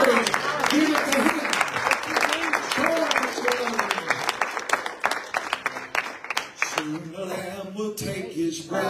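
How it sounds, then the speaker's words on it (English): A church congregation claps hands in praise, many sharp, rapid claps layered over a voice and music, loud and close, thinning toward the end. "give the Lord a big hand clap of praise."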